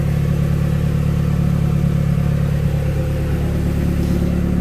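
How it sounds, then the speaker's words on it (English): A car's engine revs with turbo spool, heard from inside the car: a loud, steady, close engine drone with a strong low hum throughout, and no talking. "Hear that turbo spool."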